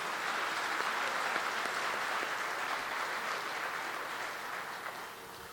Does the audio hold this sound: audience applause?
yes